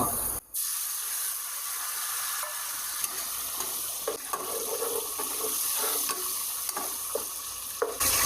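Steady sizzling of onions and chopped tomatoes frying in a pan for biryani, with occasional scraping and stirring taps over the continuous hiss.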